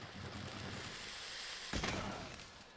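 A Dragon pierce bow is drawn and fired in Monster Hunter World. One sharp burst cuts through a steady, dense bed of game noise, then the noise settles back to its earlier level.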